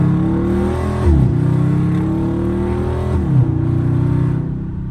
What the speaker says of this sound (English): Downshifts in sport go crazy.